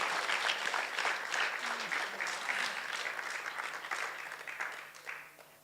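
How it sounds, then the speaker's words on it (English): An audience at an inaugural lecture gives another round of applause for the speaker, steady dense clapping from many hands that tapers slightly toward the end, with no talking over it. "Can we do another round of applause?"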